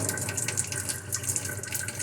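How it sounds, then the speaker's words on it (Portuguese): Water runs steadily from a tap at moderate flow, a continuous close splashing hiss with no speech over it. "Depois que a gente ligou a água"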